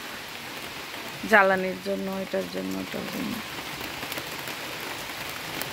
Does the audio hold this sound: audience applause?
no